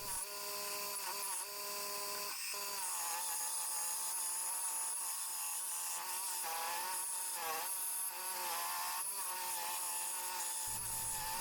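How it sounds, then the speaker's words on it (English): A basic Harbor Freight scroll saw cuts wood with a continuous, fast buzzing rattle of the reciprocating blade. It is close and loud, and its pitch shifts slightly as the cut changes. "This is actually a Harbor Freight scroll saw, by the way. And it's a very basic scroll saw"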